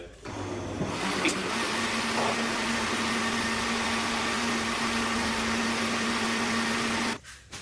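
A blender whirs steadily for about seven seconds while blitzing a turmeric cold and flu tonic, a loud constant motor drone with a grinding texture that starts abruptly and cuts off near the end.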